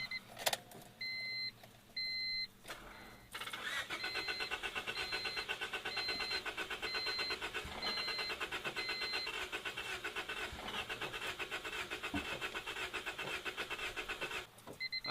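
A car's starter motor cranks the engine in a long, steady, loud run of several seconds after a few short bursts, with the engine not catching before it stops.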